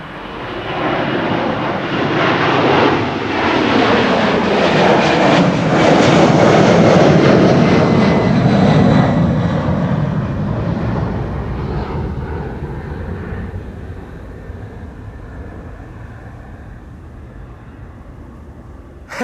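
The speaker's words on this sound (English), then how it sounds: "So this is United Airlines flight 947 going to Washington. 767-300. Old school sounds incoming." A United Airlines Boeing 767-300 jet passes at Amsterdam Schiphol, its loud engine roar swelling and sweeping past, then slowly fading into the distance.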